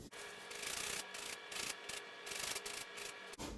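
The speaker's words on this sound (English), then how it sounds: "So I just zest it. I kind of look around the lime" A zester scraping the green peel off a lime for key lime pie, heard as short, close rasping strokes in a quick uneven rhythm with small gaps between them.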